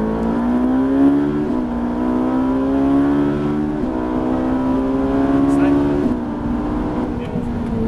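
A Ferrari F458 accelerates hard on the Le Luc race track, its engine note climbing through gears in a loud, sustained rising whine with brief dips at each shift, heard close from inside the car.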